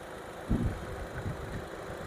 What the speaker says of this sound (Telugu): ఇంకా ఇంజన్ స్టార్ట్లో ఉంది, ఎటువంటి స్మోక్ నాయిస్ ఏం లేదండి